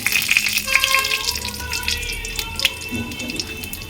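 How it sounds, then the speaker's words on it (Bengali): Bori lentil dumplings frying in a pan, a steady close sizzle with small crackles and pops running throughout. "বড়িটা ভেজে নিচ্ছি"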